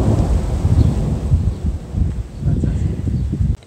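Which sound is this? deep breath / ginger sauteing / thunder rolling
thunder rolling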